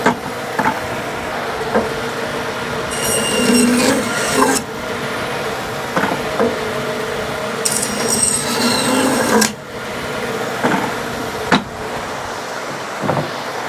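An older bandsaw fitted with a cheap worn blade cuts cherry wood chunks for smoking in a home workshop, with a steady motor hum and two loud bursts of rasping cut noise, each several seconds long and separated by quieter running.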